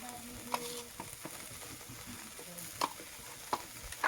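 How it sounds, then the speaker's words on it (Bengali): Okra and tomato sizzle steadily in a pan while a utensil stirs them, with scraping and clicking strokes against the pan rising above the continuous frying hiss, close and moderately loud. "এটাও আমি ভালোভাবে একটু নাড়াচাড়া করে ভেজে নেব।"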